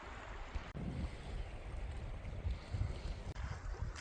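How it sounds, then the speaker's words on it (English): Rain-swollen river running through a usually dry wash, a steady broad rushing of water heard close, with gusty wind buffeting the microphone and a couple of sharp knocks. "this is like a full-on river"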